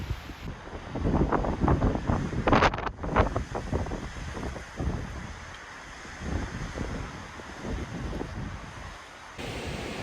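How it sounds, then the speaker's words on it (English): Strong wind buffets a mountain clifftop at Little Lost Cove Cliffs in North Carolina, a steady loud roar with heavy gusty rumble close to the microphone, no voices. "It's very windy up here."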